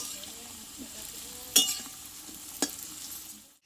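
Chana dal snacks are turned over in hot frying oil over a soft continuous sizzle. Two sharp clinks and scrapes from the utensil stand out before the sound cuts off.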